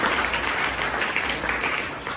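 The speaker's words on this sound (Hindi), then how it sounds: "तालियां बजा दो बच्चे।" Schoolchildren at a girls' school clap together during a motivational talk, a loud, dense burst of many small hands filling the room, steady throughout with no talking over it.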